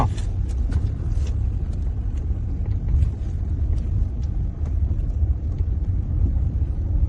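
A car driving slowly around a driving-school training ground, a continuous low engine and road rumble with no talk.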